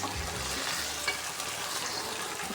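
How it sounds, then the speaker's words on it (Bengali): Mutton pieces frying in oil while being stirred in a pot, a dense continuous sizzle with soft scraping of the spoon, close and steady with no talking. "এখন ভালোভাবে আমি কষিয়ে নেব।"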